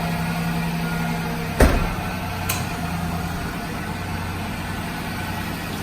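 A vehicle engine already running at a steady low idle, broken by a sharp click or thump and a fainter second knock, with the drone holding even throughout.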